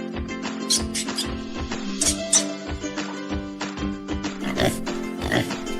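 A pig oinks and grunts in a rapid series of short snorts, close and clear above continuous background music.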